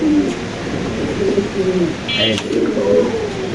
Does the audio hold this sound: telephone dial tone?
no